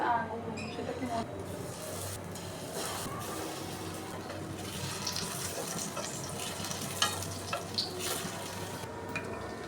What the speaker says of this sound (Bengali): এবার ডিমে ভিজিয়ে কোট করে নিয়ে গরম তেলে ভেজে নিব।